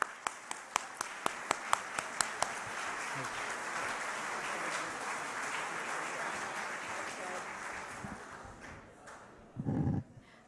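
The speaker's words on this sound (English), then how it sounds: "Big round of applause" At a healthcare rally outdoors, a crowd claps for an incoming speaker, opening with a few distinct close claps before spreading into broad sustained applause that fades, followed by a short loud bump near the end.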